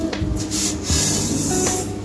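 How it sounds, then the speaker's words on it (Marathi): Thin vermicelli dropped into hot ghee in a pan for a sweet semai dessert, a loud close hissing sizzle with scraping rustles as the strands are stirred. "त्याच्यामध्ये आपण ह्या शेवया घालून घेऊया।"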